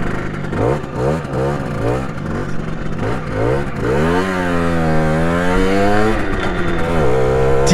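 A legal-tuned Simson 90cc moped engine revs hard and close, its two-stroke pitch repeatedly climbing and dropping in quick blips, then holding a long, loud rising rev before easing off.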